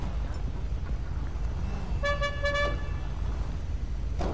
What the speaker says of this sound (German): Nee, nicht alle hupen.